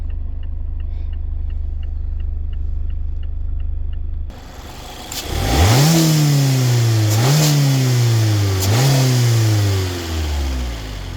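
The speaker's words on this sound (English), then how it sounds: "Engine sounds normal." A red 2020 Mazda MX-5 Miata engine idles, then is revved three times, each rising sharply and falling back, loud and close with no talking.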